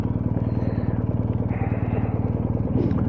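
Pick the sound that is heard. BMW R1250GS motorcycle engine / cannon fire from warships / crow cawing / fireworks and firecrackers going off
BMW R1250GS motorcycle engine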